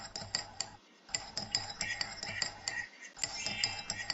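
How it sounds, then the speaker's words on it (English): A spoon clinks and taps against a small bowl as milk and other ingredients are stirred into a smooth paste, giving quick rhythmic ticks with two brief pauses. "Stir the ingredients until the mixture becomes smooth."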